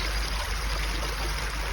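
A river near Grassington and Threshfield in North Yorkshire rushes over rocks at a crossing point, a loud, steady, close roar of flowing water with no voices.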